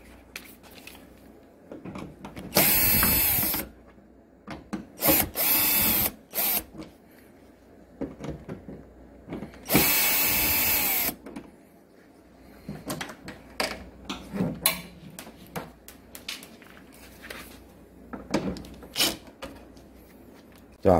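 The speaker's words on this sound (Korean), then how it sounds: "이렇게 10mm 볼트를 하나 풀고, 그 다음 십자 드라이브 나사 두 개를 푸는 거예요" Phillips screws and a 10mm bolt coming out of a Nicky 125 scooter body cover, heard as several short bursts of a power driver whirring, mixed with clicks and tool handling, up close.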